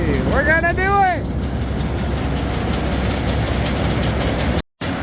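A large engine on the world's biggest auger runs with a steady loud rumble and diesel knock, a voice speaking over it briefly at the start before a short dropout.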